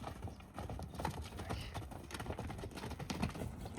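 Horses' hooves clip-clop steadily and close by at a sale of large mares with foals, with a dense, uneven rhythm of many overlapping steps throughout.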